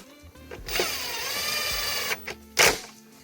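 Tightening a 10mm bolt on the air box of a GMC Acadia: a tool whirs steadily for about a second and a half at close range, followed by a few short clicks and knocks.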